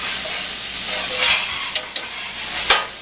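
Ground meat, celery, carrots and onion cook in a pan with olive oil for bolognese, giving a steady close sizzle and hiss broken by a few sharp stirring scrapes. No one speaks.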